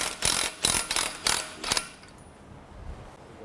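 Ratchet backing a 3/4 inch bolt out of a bolt-on 40 degree motorcycle rake kit: five close, sharp clicking pulls in a steady rhythm, then the ratcheting stops and quiet follows.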